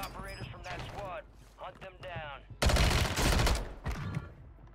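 A fast, loud burst of Striker 9 submachine gun fire in Warzone 3 rattles for about a second after a stretch of speech, and voices continue around the shots.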